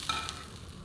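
Almonds and raisins fry in ghee with a brief steady sizzle and a light stir or scrape near the start, close and fairly quiet. No voices.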